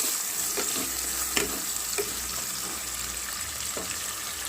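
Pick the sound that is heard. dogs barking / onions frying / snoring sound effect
onions frying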